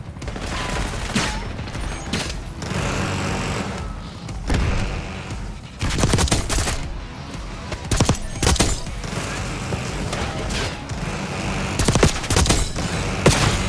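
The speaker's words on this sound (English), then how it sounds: "Oh, that was a shotgun." Shotgun fire and other weapons in Call of Duty Black Ops 6, a loud, chaotic firefight of repeated booming blasts and rapid bursts, close and dense throughout with few gaps.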